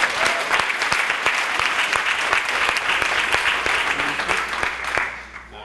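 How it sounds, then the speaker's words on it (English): A crowd at a graduation ceremony applauds steadily with dense, loud clapping that fades slightly at the end. "a round of applause for Iman"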